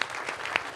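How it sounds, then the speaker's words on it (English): A conference audience gives a brief round of applause for the minister. The clapping is steady and moderate and cuts off within a second. "Can I have a round of applause for..."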